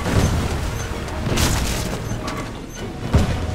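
Ship cannons fire at an enemy vessel during a naval battle in the pirate game Blazing Sails, heavy rumbling booms with scattered thuds and clatter over a constant low roar of sea and wind.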